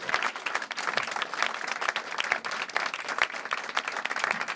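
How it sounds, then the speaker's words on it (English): An audience applauds the Friendly Sons of St. Patrick Glee Club at an NYU commemorative event, a steady, dense patter of many hands clapping throughout with no talk over it. "I really, really would like to ask for a really warm round of applause for the Glee Club once more."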